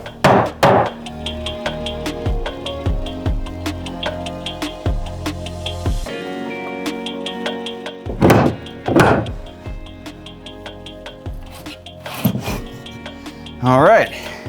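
Fire break being knocked out inside a wall during a home theater install, repeated sharp hammer thuds and wood knocks in irregular bursts, close and loud, with some scraping and rubbing between blows over steady background music.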